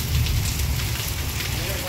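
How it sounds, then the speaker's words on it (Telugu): Steady rain falls outdoors near the listener, a dense continuous hiss over a low rumbling wash that holds an even level throughout. "ఫ్రెండ్స్ వర్షం ఎట్లా పడుతుందో."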